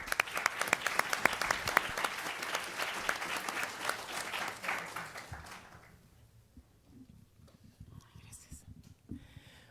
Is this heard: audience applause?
yes